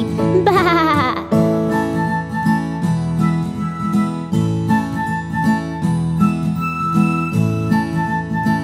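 A sheep bleats once, a high quavering cry, in a children's nursery rhyme song, followed by bright melodic music with tinkling tones and steady rhythm.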